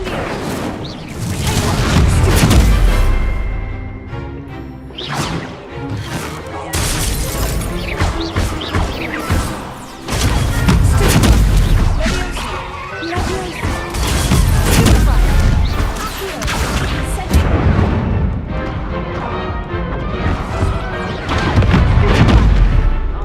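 Confringo blasting-spell explosions in the Hogwarts Legacy video game, a dense, loud run of booming blasts and crashes that overlap almost continuously with little pause.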